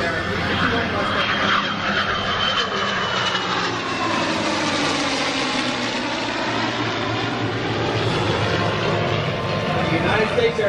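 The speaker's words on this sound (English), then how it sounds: "World War II era F-51 Mustang." A World War II era F-51 Mustang propeller plane roars past overhead, its engine drone swelling and shifting in pitch as it flies by, loud and sustained throughout.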